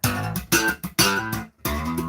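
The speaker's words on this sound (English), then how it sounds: "that's a deeper chorus effect" Electric guitar played through a deeper chorus effect, short strummed chords with brief gaps between them, loud and close with no talking.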